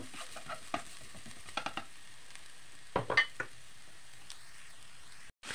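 Ginger frying in hot oil for a bitter melon stir fry gives a steady sizzle, with a few sharp utensil scrapes and stirs scattered through and no talking.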